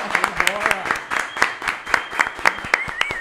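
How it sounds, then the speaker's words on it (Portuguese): A small studio group claps for guests on a Brazilian podcast, quick rhythmic hand claps heard up close, with voices talking and laughing over them. "Eu quero uma salva de palmas pra eles,"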